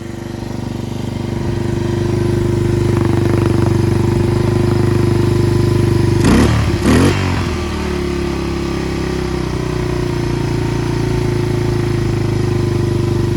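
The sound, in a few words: Yamaha 225DX Tri-Moto three-wheeler engine idling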